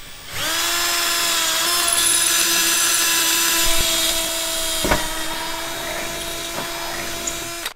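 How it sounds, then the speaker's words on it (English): A power drill with a 13/64 bit whines steadily at close range drilling out pop rivets on a 1996 Ford Bronco tailgate, its pitch holding level, with a couple of brief knocks as the bit bites through metal. "you're gonna have to drill these out"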